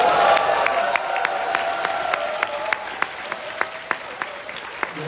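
Sustained applause from an audience at a political rally on resident self-governance, a dense steady wash of clapping with a few sharper individual claps standing out, fairly close and loud throughout.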